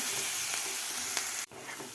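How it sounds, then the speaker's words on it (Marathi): Green chili and garlic paste frying in a pan, a loud steady sizzle close by with faint stirring scrapes, briefly dipping quieter near the end. "आता व्यवस्थित आपल्याला हे फ्राय करून घ्यायचं आहे वाटण"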